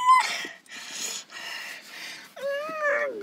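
A dog whimpers and whines in a series of high, thin, drawn-out cries, each rising and falling with short pauses between, close by with no talking.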